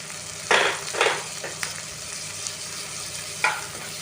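Tomatoes fry in oil in a pan over a low gas flame with a steady, moderate sizzle. A few louder stirring bursts rise out of it, and there is no talk.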